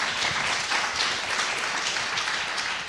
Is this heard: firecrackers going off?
no